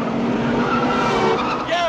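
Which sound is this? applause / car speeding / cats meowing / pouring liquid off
car speeding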